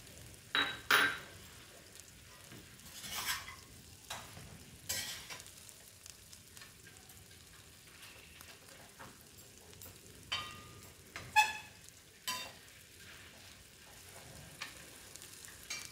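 Fried potatoes are added to frying katla fish heads and stirred, a faint, soft sizzle with sporadic scrapes and metallic clinks from the utensil against the pan.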